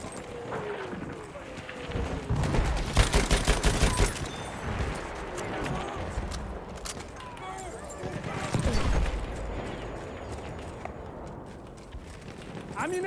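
Rapid machine gun fire rattles in a Battlefield 1 battle in bursts of fast cracking shots, mixed with hoofbeats, running footsteps and someone talking over the noise.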